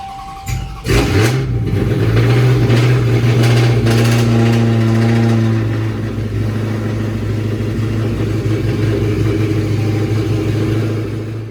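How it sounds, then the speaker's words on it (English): A car engine cold start: it cranks, catches and roars to life loudly, then settles into a rough, steady high idle that drones on close by. "let's give you guys this big nasty cold start"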